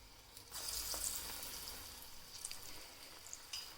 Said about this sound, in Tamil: இதை ஒன்று ஒன்றா எடுத்து இந்த பால்ஸ் எல்லாம் எண்ணெயில் போட்டுக்கோங்க